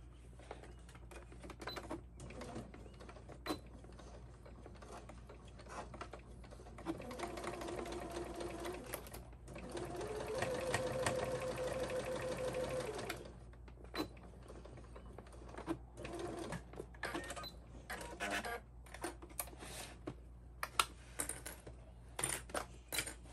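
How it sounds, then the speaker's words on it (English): Close, steady whirring of a sewing machine stitching a zippered pouch seam, running in a sustained burst mid-clip with shorter starts and stops and small clicks around it, fairly quiet and without talk. "we're going to sew these also with a 1/4 inch seam allowance"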